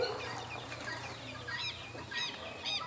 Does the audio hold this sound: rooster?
yes